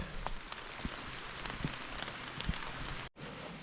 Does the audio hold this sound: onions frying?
no